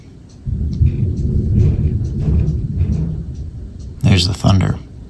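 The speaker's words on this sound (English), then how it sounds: "There's the thunder." Thunder rumbling from a storm outside, a low continuous roll that swells and rumbles for several seconds, followed by a couple of brief sharper sounds.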